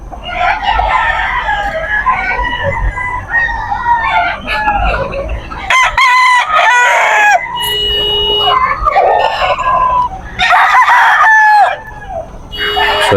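Bullstag gamefowl roosters at a busy pet market crow repeatedly, several loud overlapping cock-a-doodle-doos and clucks rising close by over a murmuring crowd.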